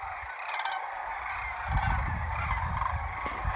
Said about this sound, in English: These cranes were all right here in my backyard.